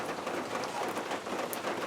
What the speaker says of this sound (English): It's pissing rain, dude.